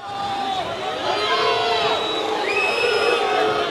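An arena crowd at a Turkish professional wrestling match shouts and jeers in protest, a loud continuous roar of voices with rising calls and whistles.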